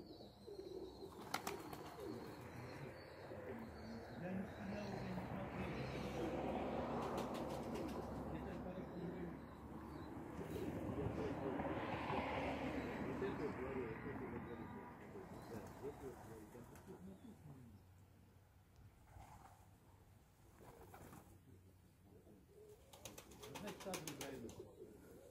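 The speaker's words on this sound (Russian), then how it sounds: "Он занимается вот голубями. Посмотрите, какие тут красоточки." Pigeons at a keeper's loft coo in low, rolling calls with a few wing flutters, nearby and recurring, while people talk over them in the background.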